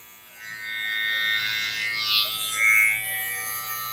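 Electric hair clippers buzz steadily up close while cutting hair during a barbershop-style haircut, with the pitch shifting slightly as the blade is drawn through the hair.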